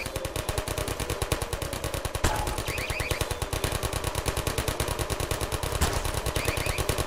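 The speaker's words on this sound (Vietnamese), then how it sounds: "Nó đang tự động bắn" Automatic turret gunfire from the SCP video game, aimed at the SCP-6789 Siren creature: a loud, unbroken stream of rapid shots with a steady rhythm that keeps going for the whole stretch, with no talking over it.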